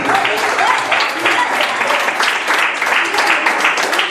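Church congregation applauding together in a worship service, a dense, sustained wash of clapping that holds steady throughout, with some voices mixed in.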